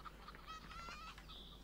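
Faint clucking and squawking from a chicken in a video game, a few short calls over a low steady background hum.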